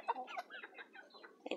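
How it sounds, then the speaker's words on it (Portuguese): Chickens cluck close by in short, rapid bursts, a cluster of quick clucks and one final louder burst, with no talking. "as minhas galinhas"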